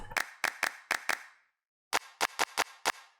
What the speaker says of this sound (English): let's check the claps.